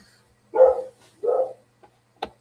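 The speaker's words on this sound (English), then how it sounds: "I don't know if you guys can hear my dog barking" A pet dog barks twice in a room, two short, fairly loud bursts about a second apart, followed by a couple of faint soft clicks and a brief yip-like sound near the end.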